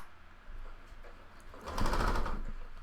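A sewing machine stitches around the edge of a fabric face mask, starting with a low mechanical whir and then running louder in a fast, steady buzzing burst for the last second or so.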